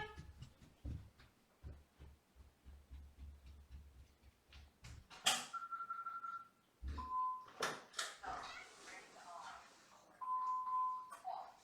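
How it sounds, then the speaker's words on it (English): A household doorbell chimes in a few clear, sustained electronic tones separated by pauses, with some soft ticking and voice-like sounds around them. "that was the second doorbell and the last one for today"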